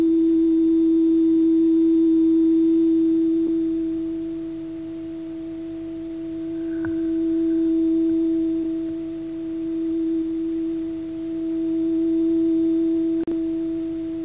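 A steady pure test tone plays from two loudspeakers in a room, forming standing waves. Its loudness swells and dips slowly, fading to quieter patches and rising again, with a few faint clicks and no talk.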